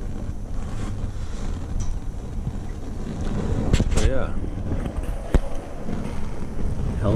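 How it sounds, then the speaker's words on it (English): Blustery wind buffeting the microphone beside a homemade natural gas burner, a constant low rumble with gusts, and a few faint sharp knocks in the background. "It is quite windy."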